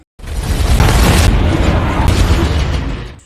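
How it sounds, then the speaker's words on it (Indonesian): A grenade launcher round exploding in an action film scene on a building rooftop, a sudden loud boom followed by a sustained roaring blast with debris rumble fading over a few seconds. "Mike menembaknya dengan senjata pelontar granat. Namun Wade berhasil selamat dari ledakan itu."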